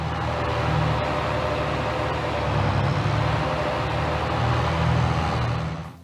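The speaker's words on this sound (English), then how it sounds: "we can hear the tone of the engine constantly shift as it adapts to the various changes in load" A steady, rumbling truck engine in Farming Simulator 22 drones continuously over rough terrain, its tone wavering slightly with load, with low road noise underneath and no talking.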